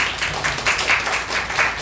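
A church congregation claps during Sunday service announcements, a short burst of moderately loud, fairly even clapping from a roomful of people with no voices on top.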